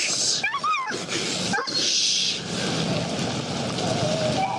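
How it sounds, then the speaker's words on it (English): A big, fearful dog whines in short rising and falling whimpers, fairly close, over steady background noise, with a brief muffled voice in between. "The dog is whining in fear."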